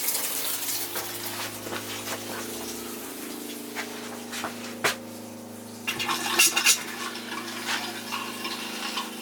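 Water runs quietly from a skoolie's sink faucet, a soft, steady flow with a pump humming underneath and a brief louder gush near the end.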